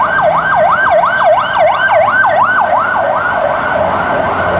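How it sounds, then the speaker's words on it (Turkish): A wailing emergency siren in Armenia sweeps up and down in a steady, rapid cycle, loud and fairly close, with traffic rumble underneath. "Buradaki siren sesi farklı"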